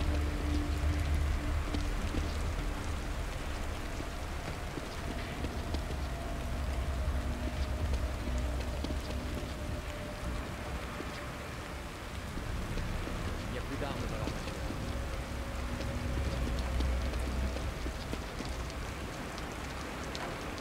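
Steady rain falls in a video game scene, a dense, even hiss of drops that continues without a break for the whole stretch, fairly loud and close.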